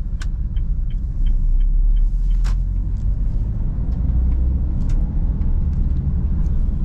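A car on the road after a shift into second gear, its engine a steady low rumble throughout, with faint rattles and clicks from inside the cabin.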